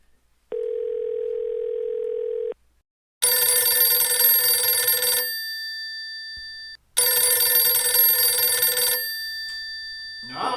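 A telephone call to Louisville goes through. A steady tone sounds first, then two long, loud electronic ring bursts follow, separated by a short silence, with no talking.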